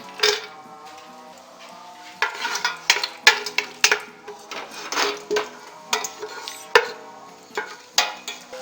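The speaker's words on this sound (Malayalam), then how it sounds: "ഇനി ഇതിൽ കുറച്ച് കാഷ്യൂനട്ട് ഫ്രൈ ചെയ്യാം." Cashew nuts frying in oil in a pan while making a hotel-style biryani, with a spoon clattering and scraping against the pan in irregular bursts over soft background music.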